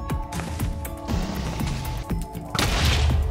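End crystals blowing up in a Minecraft survival world, a rapid string of sharp, booming blasts crowding together over a few seconds, loud and close, with no talking.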